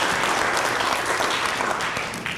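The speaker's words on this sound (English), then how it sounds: "Everybody get a big clap." A church congregation claps loudly together during a Sunday worship service. The applause is close, dense and continuous, with no talking over it.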